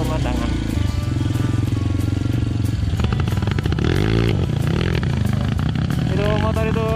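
A motorcycle engine with a misfiring, sputtering fault runs close by on a mountain savanna trail with an uneven, rattling idle, while people talk over the noise.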